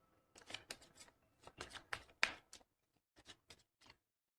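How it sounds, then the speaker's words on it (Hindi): A deck of tarot-style reading cards is shuffled in quick bursts of riffling flutter, several close, crisp rounds separated by short pauses in a quiet room. "सो शफल कर लेते हैं"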